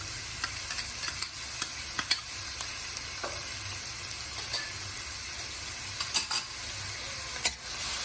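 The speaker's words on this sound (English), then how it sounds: "we are going to saute these for at least 4 minutes" Chopped capsicum and green chilies sauté in a pan, giving a close, continuous sizzle broken by repeated scraping clicks of a spatula stirring through them.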